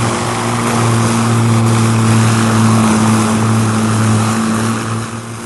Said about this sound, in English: Meanwhile, the port engines are running at full power.